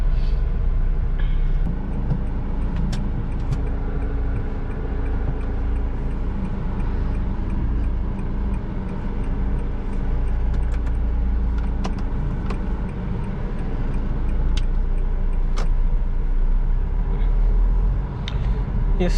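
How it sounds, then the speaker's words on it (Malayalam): A car being driven along a road during a driving lesson, a constant low engine and road rumble with tyre noise and a few faint clicks and rattles inside the cabin, close and steady throughout. "നമ്മൾ വണ്ടി എടുത്ത് പോയിക്കൊണ്ടിരിക്കുകയാണ്"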